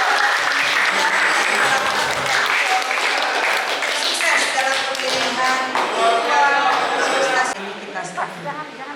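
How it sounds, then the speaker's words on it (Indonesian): Audience applause breaks out at an Indonesian national congress and work meeting, a dense clatter of clapping that swells and then thins out, with a voice over a loudspeaker talking across it toward the end. "kita tepuk tangan ya"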